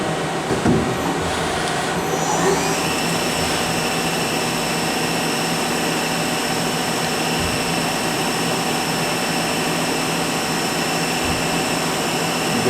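A Hardinge Quest 8/51 CNC lathe runs its live tool at 1,500 RPM, producing a steady, loud machine drone with high whining tones that rise early on and then hold constant, with no speech.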